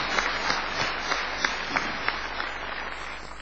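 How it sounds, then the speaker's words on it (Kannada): Audience applause welcoming a nadhaswaram player at a concert in Bangalore, steady sustained clapping from a crowd filling the room, with a few sharper individual claps standing out. "ನಿಮ್ಮ ಚಪ್ಪಾಳೆಯಿಂದ ಅವರನ್ನ ಸ್ವಾಗತಿಸಿ."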